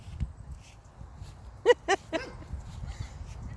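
A dog gives a few short yips and whimpers in quick succession, moderately close, over a low rumbling background outdoors near a garden.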